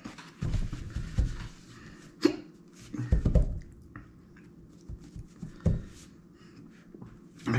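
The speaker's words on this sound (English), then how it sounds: "I got the hiccups." Hiccups from a man overheated after eating an extremely spicy chip in the One Chip Challenge, several sharp, close hiccup bursts spaced irregularly over heavy breathing and rustling.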